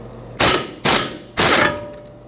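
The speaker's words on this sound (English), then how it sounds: "Now we can unbolt the two 13mm bolts I was mentioning and pull the caliper off of its bracket." A ratchet loosens 13mm brake caliper bolts on a Ford F-150 in three sharp, loud bursts of clicking, each fading quickly, with short pauses between them.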